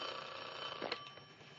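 An office telephone rings once, a faint trilling bell burst under a quiet room tone.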